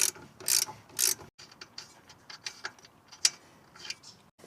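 A ratchet wrench loosening the eccentric screw on the shock absorber mount of a Dacia Duster 4x4 clicks loudly in three strong bursts up close, then a series of lighter, quicker ticking strokes.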